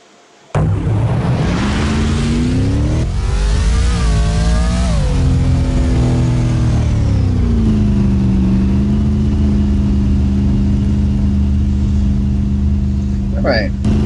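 Race truck engines in NASCAR Heat fire up at the start of a Truck Series race at New Hampshire, a loud sustained roar that rises and falls in pitch as the pack accelerates, with a voice speaking over it.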